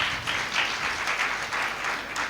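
A church congregation at a Sunday service claps loudly in a steady, rhythmic burst of applause lasting a couple of seconds, close and full, with no talk over it.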